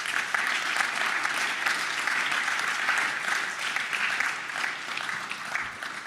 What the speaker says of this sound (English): can you please give them a huge round of applause?